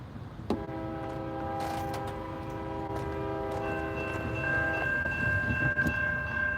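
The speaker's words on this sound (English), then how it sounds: "584, M584 coming our way for CSX." A CSX freight train, M584, at the Dalton Rail Yard sounds a loud, sustained multi-tone horn for about four seconds over a steady rail rumble, with a brief higher note near the end.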